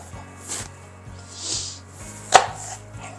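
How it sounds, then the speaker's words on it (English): A knife chops through an onion on a cutting board in steady, close taps, with soft scraping swishes between strokes and one sharper knock near the end. "just run your knife, chopping it in the direction of the curve of the onion"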